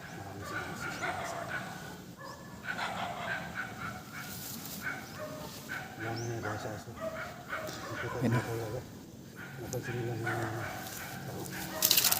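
Dogs bark, yip and whimper in alarm during rain outdoors, several sharp barks scattered through the clip and mixed under steady talking.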